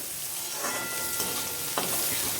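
Vegetables sauté in a hot pan for a moong dal and brinjal gothsu, a steady broadband sizzle with a few louder stirring scrapes, close and alone without talk.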